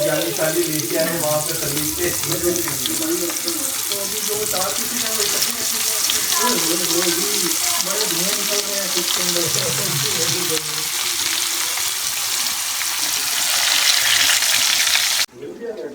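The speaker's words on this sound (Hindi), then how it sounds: "तो फ़िश हमारी जो है अभी फ्राई हो रही है" Fish pieces fry in oil with a loud, dense, continuous sizzle and bubbling up close, with faint background voices underneath, ending abruptly.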